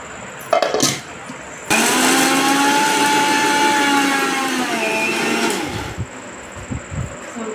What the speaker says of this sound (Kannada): ಮಿಕ್ಸಿಗೆ ಹಾಕ್ಕೊಳ್ಳೋಣ